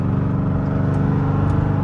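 A Jeep Summit with a 5.7 engine and cat-delete exhaust, rumbling deep and loud up close with a throaty, steady burble that swells slightly as if under throttle.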